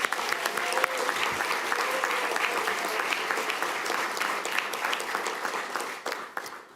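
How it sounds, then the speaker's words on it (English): A crowd claps steadily for several seconds at a school police swear-in and promotion ceremony, dense, sustained applause that fades near the end, with faint voices mixed in. "So we'll have one more big round of applause for everybody."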